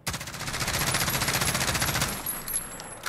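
A long continuous automatic burst from an MCX Rattler rifle in Call of Duty Modern Warfare, rapid even rhythm of close, loud shots lasting about two seconds, then a few trailing shots, with no talking.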